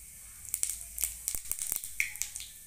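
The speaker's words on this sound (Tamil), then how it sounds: "சீரகமும் பொரிஞ்சிடுச்சு." Mustard and cumin seeds splutter in hot oil in a pan, making sharp, irregular crackling pops over a faint sizzle, close and fairly quiet.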